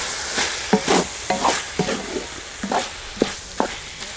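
A spoon scrapes and stirs chicken keema stuffing with raw onion and chopped fresh coriander in a hot pan, giving repeated rhythmic clatters over a steady close sizzle.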